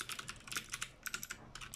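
Crisp, bright clicks from typing on a GamePower Warlock compact mechanical keyboard with blue switches, a quick irregular run of keystrokes heard up close with nothing else over it.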